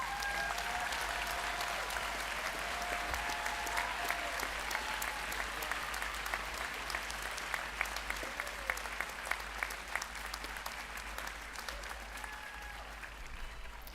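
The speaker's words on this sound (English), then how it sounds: "Give yourselves a round of applause." Graduates applaud at a 2025 community college commencement, a long, even roar of many hands clapping across a large hall, steady and full for the entire span, heard from a slight distance with a low hum beneath.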